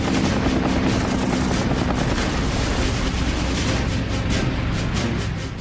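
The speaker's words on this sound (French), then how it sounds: "J'ai ouvert le feu et il a explosé." A WWII P-40 fighter opens fire on a bomber, which explodes: a loud, continuous roar of gunfire and blast noise fills the whole stretch, dense and unbroken, tapering slightly at the end.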